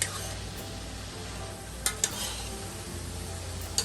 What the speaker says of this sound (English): I'm going to stir that down